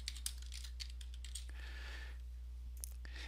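A view name is typed on a computer keyboard in Fusion 360, a quick run of soft, close key clicks over a low steady hum in a quiet room.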